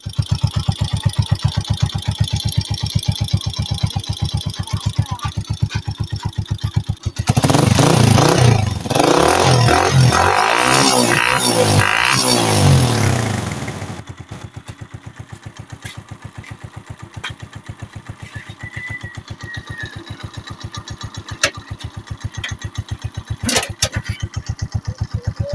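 A Honda TMX 125 motorcycle engine, heard before its valve clearance is adjusted, runs with a loud fast chugging idle, then surges into a steady roar for several seconds and settles back to a quieter rhythmic idle.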